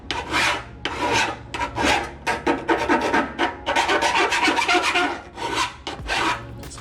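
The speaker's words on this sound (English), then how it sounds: "we're gonna file this down a little bit" A file dragged across the freshly cut edge of a Mazda Miata bumper, producing repeated close, harsh rasping strokes in an uneven rhythm, some short and quick, others longer, with no talking.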